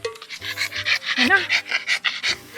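After a run, a tired dog pants rapidly and steadily, loud and close, while someone talks over the breathing.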